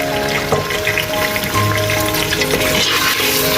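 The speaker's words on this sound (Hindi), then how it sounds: "सबसे पहले हम अपना पैन के अंदर ऑयल डालेंगे और ये अपना जो है मटर इसमें ऐड कर देंगे" Green peas frying in hot oil in a pan for a round gourd and mutton curry, giving a steady close sizzle with light crackling and stirring throughout.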